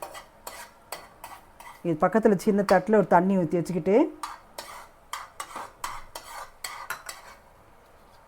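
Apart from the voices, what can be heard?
stirring boiling syrup in a kadai for athirasam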